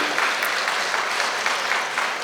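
Steady applause from a crowd of students fills a college postgraduate inauguration hall, continuous rapid clapping without pause, loud and close.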